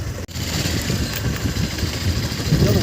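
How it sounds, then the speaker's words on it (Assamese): A motorcycle engine runs steadily while riding a rough road near Aalo in Arunachal, a loud continuous low drone with a brief dropout near the start. "একদম বাইক চলাই আহি আছোঁ"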